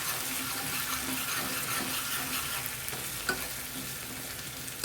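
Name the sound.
curry leaves and ground masala frying in pan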